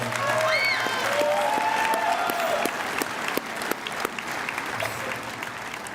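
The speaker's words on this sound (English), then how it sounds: "I think she deserves a big round of applause" Sustained applause from a large audience at a high school graduation ceremony, a dense wash of clapping that holds steady for several seconds, with faint voices and whistles cutting through near the start.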